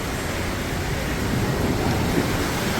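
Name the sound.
choppy water splashing over pool edge in Rhodes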